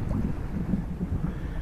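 A 420 sailing dinghy moves across open water on Long Island Sound, with a continuous rush of wind buffeting the microphone and a soft wash of water beneath.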